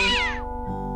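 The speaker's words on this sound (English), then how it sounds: "What a pretty pussycat." A single cartoonish cat meow from the adventure game Day of the Tentacle, a bright falling yowl about half a second long followed by a low tonal tail.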